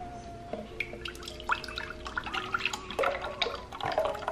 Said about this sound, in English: Get this strained off one more time.